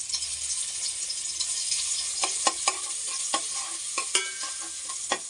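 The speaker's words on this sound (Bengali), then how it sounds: "হালকা ভাজা ভাজা করে নিব" Chopped garlic fries in oil with a steady hiss, and a spoon scrapes and taps against the pan in several sharp clicks.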